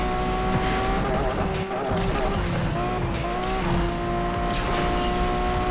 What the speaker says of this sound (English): I'll take this opportunity to drive my Murcielago a little bit, even if it does terrible.